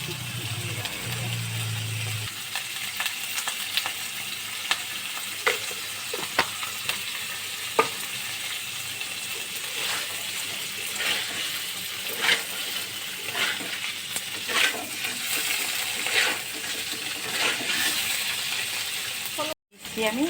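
Ground cumin and other spices frying and sizzling in oil in a pan for a paneer curry, a steady close hiss with occasional stirring scrapes and clicks, no talking over it.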